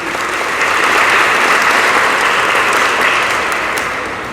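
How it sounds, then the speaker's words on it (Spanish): A congregation at Easter Sunday Mass breaks into loud, dense clapping that swells and then tapers off, sounding like a continuous wash of applause rather than distinct counted claps. "Hay unos que dan más de 5, son 5 aplausos nada más."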